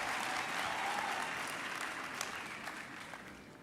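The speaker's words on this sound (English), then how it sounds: "A warm round of applause to them." A university graduation audience gives a warm round of applause, a broad, steady wash of many hands clapping at a moderate distance that gradually fades toward the end.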